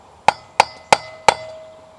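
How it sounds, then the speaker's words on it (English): Four sharp, ringing hammer taps on metal while a travel trailer's wheel bearings are repacked, evenly spaced and close, each with a bright lingering ring, with no talk. "Hammer."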